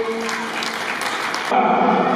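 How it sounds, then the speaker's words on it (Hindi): A crowd at a religious saints' gathering (satsang) applauds loudly and continuously, the dense clapping shifting in tone partway through, with a sustained tonal hum underneath. "एक बार प्रेम से जोरदार ताली बजा दीजिए।"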